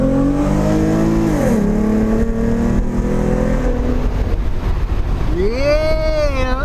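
A catless V6 Mustang roars loudly under hard acceleration, its engine note climbing through gears with a shift and a rising wail heard from inside the car.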